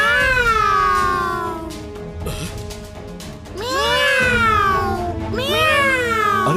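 A cartoon cat meows repeatedly in a bright, sing-song voice, with long sliding calls that swoop up and down in several loud bursts and a short dip between them.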